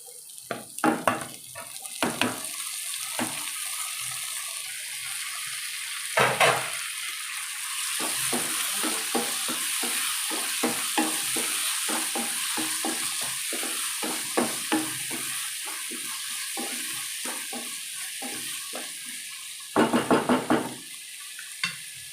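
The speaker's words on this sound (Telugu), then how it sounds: "ఆనియన్స్ బాగా ఫ్రై అయ్యాయి ఇందులో ఇప్పుడు టమాటా యాడ్ చేసుకుందాం" Tomatoes tipped into onions frying in oil crackle and sizzle steadily, with repeated clacking strokes of a spoon stirring the pan and a few louder bursts of scraping near the start and end.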